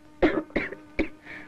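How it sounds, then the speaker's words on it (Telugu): A woman coughs three times in close succession, the bursts short and fairly near, with a faint steady hum underneath. "అమ్మాయి దగ్గుతున్నట్టుంది"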